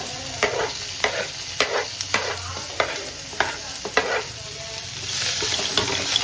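Onion, green chilli, ginger and garlic sautéing in a pan for bread samosa filling: a continuous close sizzle broken by about a dozen regular spatula scrapes and taps, then a louder, fuller sizzle toward the end.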